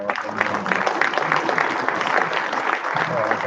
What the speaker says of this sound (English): Let's get another round of applause for Micah.